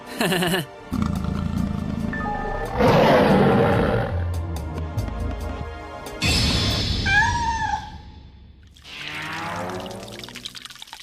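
A lion, hailed as a big cat, roars loudly in several rising and falling bursts, broken by short gaps and mixed with other scene noises, with no one speaking.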